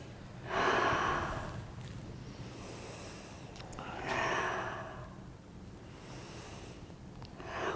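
Slow guided breathing during a relaxation exercise, with deep audible inhales and long sighing exhales repeating in a calm rhythm, close and soft, with no talking.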